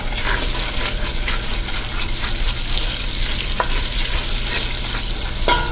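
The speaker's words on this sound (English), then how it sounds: "I've got it over a medium heat, and we're going to come over here and we're going to do some sauteing" Vegetables sauteing in butter over medium heat, with a steady close sizzle and a few bursts of stirring and scraping against the pan.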